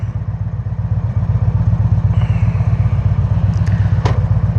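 A motorcycle rides along Highway 16, Bandera Road, in the Texas Hill Country, its engine a steady, close, pulsing drone throughout with faint wind and a couple of brief higher clicks near the end, no talking.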